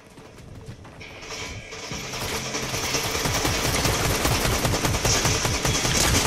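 Rapid gunfire in Fortnite builds into dense, clattering bursts of shots that grow louder and more continuous over a few seconds, with no talking.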